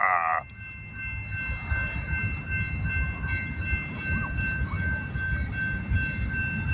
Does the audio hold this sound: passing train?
yes